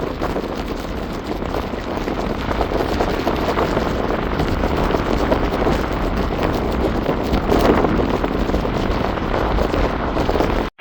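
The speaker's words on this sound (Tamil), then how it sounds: "கூடுதலான காற்று அடிச்சு கொண்டிருக்கு" Strong wind buffeting outdoors during a sudden heavy rainstorm in Jaffna, a loud continuous roar and rumble with gusty swells, close and dominant, no voices over it, ending abruptly.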